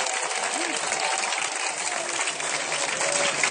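Church congregation at a crusade in Brabodougou applauding and cheering for Jesus, a dense steady wash of clapping filling the whole stretch, with faint voices mixed into the crowd noise.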